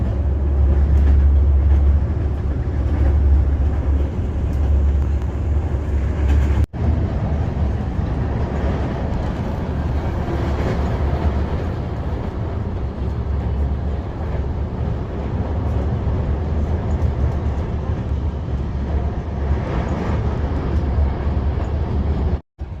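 A passenger train runs from Bucharest toward Craiova with a steady low rumble and rolling wheel noise, continuous and close, with one brief sharp clack partway through and no voices.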